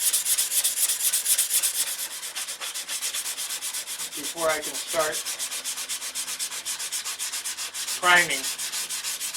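Steady rhythmic hand sanding on a boat hull, close and continuous with regular back-and-forth strokes throughout, while someone talks briefly partway through.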